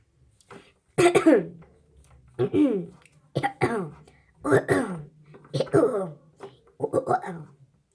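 A series of about six short coughs from a child, fairly close and loud, spaced roughly a second apart with brief pauses between them, in a pastry shop.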